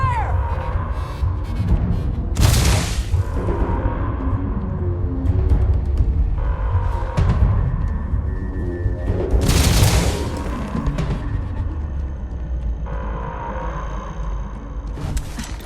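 Gunfire in the sci-fi game Starfield during a fight in New Atlantis: several loud bursts of shots and booms come in clusters over a steady, throbbing background hum, with voices calling out between them.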